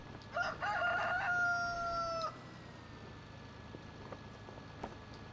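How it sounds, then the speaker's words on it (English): A rooster crows in a farming simulator game, one loud, drawn-out cock-a-doodle-doo close by that cuts off sharply, followed by quiet ambient farm noise with a few faint clicks. "Yes, you are a noisy bird."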